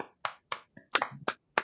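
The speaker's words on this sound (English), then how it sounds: "give Nicolette a big virtual round of applause" Scattered hand claps, about seven sharp, separate bursts over under two seconds, applauding a presenter at an online camera club talk; close and fairly quiet, with no talk.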